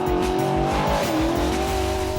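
A Scion race car fitted with a NASCAR engine drives past on test day, its loud engine droning with a shifting pitch that dips and recovers, with a hint of tire squeal running throughout.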